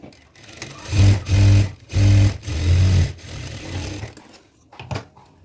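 A sewing machine stitches a border along the edge of a chudidar pant in several short, loud bursts separated by brief pauses, running close and alone.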